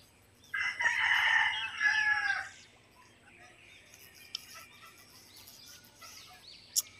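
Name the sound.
chickens clucking and rooster crowing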